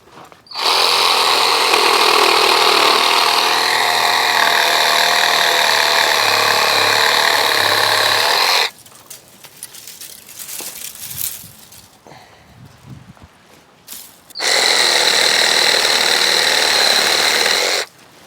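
A GardenJoy 21-volt cordless reciprocating saw buzzes loudly through dried lumber in a long steady burst, pauses amid quieter handling noise, then starts cutting again.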